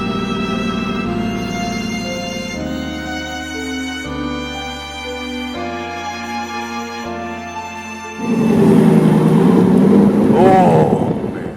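Aston Martin Vantage N430 engine roaring loudly close by, a steady drone stepping up through gears, then swelling into a harsher, louder surge near the end, with people talking over it.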